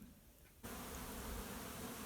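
Honey bees buzzing at an apiary around syrup feeders at dusk: a dense, steady hum of many bees that suddenly grows louder and fuller partway through, then continues close and constant.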